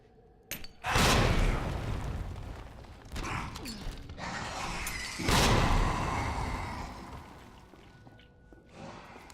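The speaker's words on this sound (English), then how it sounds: "maybe I should just use the hand grenades" Two heavy hand grenade blasts go off in Resident Evil 2, each a loud, broad boom with a rumbling decay, the second following a few seconds after the first amid quieter game noises.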